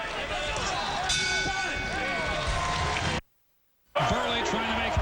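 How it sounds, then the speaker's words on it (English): A boxing bell clangs once to end round 6 of the 2007 Tomasz Adamek vs. Luis Andres Pineda fight. It rings over loud arena crowd noise and ringside commentary, and a brief silent gap follows. "Here comes the bell to end round 6."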